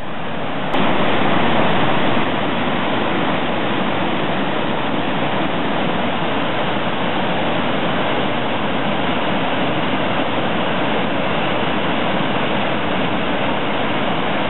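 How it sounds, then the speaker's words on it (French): The waterfall at Val-Jalbert gives a steady, dense rush of falling water that stays loud and unbroken throughout, with no voices over it. "Une chute d'une grande beauté qui demande notre protection"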